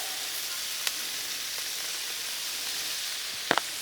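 Vegetables sizzle in butter on a Blackstone griddle, a steady bright hiss that carries through, broken by a couple of sharp clicks of a utensil near the end.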